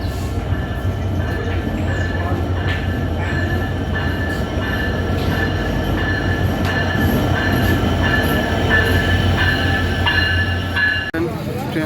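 A train pulls into a crowded station platform with a continuous loud rumble of wheels and cars, light squeals and clatter, and a sharp clunk near the end, while voices murmur faintly underneath.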